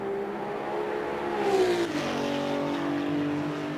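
A GT2 race car engine in a racing video game revs up and then drops pitch through a gear change, a smooth loud mechanical drone with no talk.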